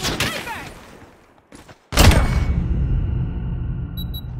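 Gunfire in a tactical shooter video game, with a burst of sharp shots, a brief lull, then another loud volley fading into a lingering echo.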